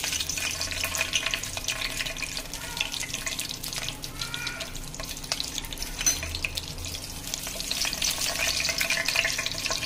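Whole spices frying in hot oil give a dense, steady crackling sizzle close up, with occasional stirring scrapes mixed in and no speech.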